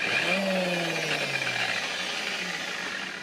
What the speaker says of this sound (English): I just got my buffer with a foam pad on there, and as it's going, I'm going like this and buffing it.